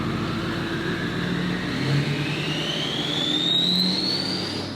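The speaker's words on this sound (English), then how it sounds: "I don't know if you can hear that turbo spool" A Hummer H1 Alpha with a Duramax diesel engine runs at a steady, close rumble while a thin turbo whine rises gradually in pitch above it.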